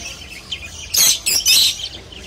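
Pet birds kept for breeding, including a laying female and a single male, chirp in a short burst of three close, bright chirps, with a faint background of further tweeting before and after.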